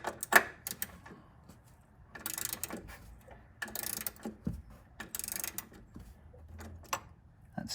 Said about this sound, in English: I'm gonna go ahead and switch over to that ratchet again, just for a little bit better security